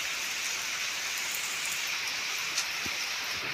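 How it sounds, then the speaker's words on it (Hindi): Heavy monsoon rain pours steadily outside, a dense continuous hiss of drops on surfaces, loud and unbroken throughout with no voices. "तो बाहर हो रही है तेज़ ज़्यादा बारिश"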